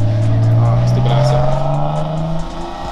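Loud, close Lexus IS300 engine revving with a rising growl that then eases off, a rough rattling tone running throughout.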